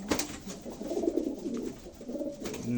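Pigeons coo in a loft, low throaty burbling calls rolling on and off over a couple of seconds, close by with soft rustling underneath.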